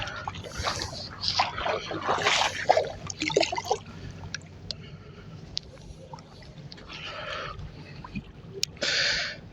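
A channel catfish is released into the lake water at Lake Mead: a few close splashes and sloshing bursts in the first few seconds, then quieter lapping water and one last brief splash.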